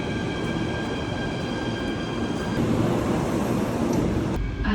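An Athens metro train runs steadily at close range, a continuous rumble of wheels and motor with faint high tonal whine, holding even loudness throughout and ending with a slight shift in pitch.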